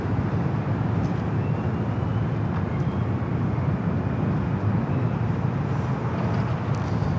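A WestJet Swoop jet airliner rolls down runway 24 left at LAX, a steady, broad roar of engine noise that holds even throughout, heard from a distance with no voices.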